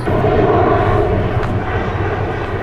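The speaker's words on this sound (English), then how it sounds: "These are the telltale 4 engines of a C-130 which just flew overhead to Palam Airport in Delhi." A four-engine C-130 military transport flying low overhead toward Palam Airport in Delhi, a loud, sustained roaring turboprop drone that fills the whole stretch with no talk.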